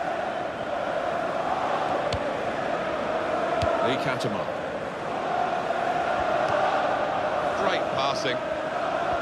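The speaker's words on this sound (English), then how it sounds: "And the crowd really enjoying it" Stadium crowd in a FIFA 16 Premier League match between Sunderland and Liverpool, a steady roaring murmur of spectators beneath a commentator's voice.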